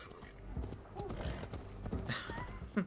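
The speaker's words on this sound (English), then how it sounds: "What did you do to the horse?" A horse's hooves clip-clop in a steady rhythm in Assassin's Creed Valhalla, near and moderately loud, with a brief whinny near the end. People talk over it.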